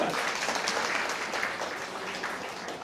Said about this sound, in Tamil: அந்த ஓதுவாருக்கு ஒரு கைத்தட்டு